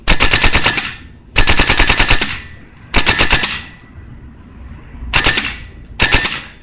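A paintball marker fires full-auto bursts, loud and close: five rapid rattling volleys, each under a second long, separated by brief pauses.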